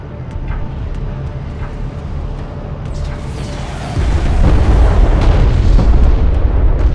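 A hostile bomber in Homeworld: Deserts of Kharak is blown apart: after a steady rumbling hum, a heavy booming explosion erupts and rolls on loudly to the end.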